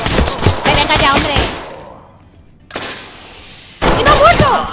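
Gunshots fire in the tactical shooter Ready or Not, with rapid bursts of sharp cracks, a short lull, then another loud volley, while a voice shouts over the action.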